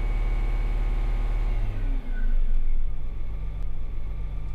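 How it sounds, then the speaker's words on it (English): A DN495 spinner spreader's engine running loud and close with a steady low drone, then shifting and climbing to a higher, fuller pitch as RPMs rise in manual transmission mode, with no talking. "If we switch to manual transmission mode, RPMs will further increase to match where our throttle is currently at on the command arm."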